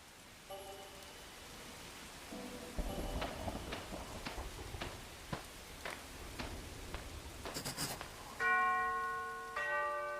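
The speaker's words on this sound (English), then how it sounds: "I'd better ring the bell" A mansion doorbell in the Arkham Horror game rings with a bright chime near the end, after a run of evenly spaced struck tones, all set against a steady rain-like wash.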